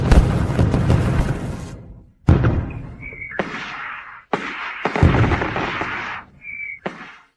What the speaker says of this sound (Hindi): कोई उसके लिए आतिशबाजी कर रहा है